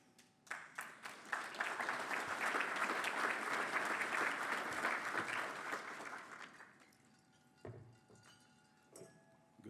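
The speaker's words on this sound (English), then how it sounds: "Good timing on the applause, thank you." Audience applause fills a room at a business legislative luncheon, rising quickly into sustained dense clapping for several seconds, then thinning to a few scattered claps and quiet room noise.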